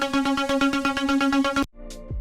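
A dry synth pluck for a STMPD-style big-room track, with every effect stripped off, repeats in a steady fast pattern of short bright notes, loud and close, then cuts off abruptly into a brief quieter tail.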